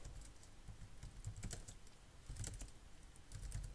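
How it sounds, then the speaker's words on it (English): Rapid clicking of keys on a computer keyboard, quiet and close, in irregular bursts with brief pauses between. "Sorry for the typing."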